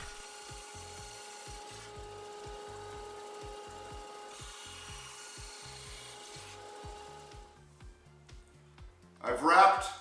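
A power saw cuts slots into a wooden V-block with a run of rhythmic, evenly spaced rasping strokes. The strokes are quiet and close, and a short burst of voice comes near the end.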